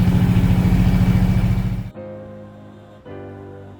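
A 1950 Buick fitted with Holley Sniper fuel injection cruising, its engine a loud, steady low rumble that drops off to a quieter, smoother drone near the middle and steps up again near the end.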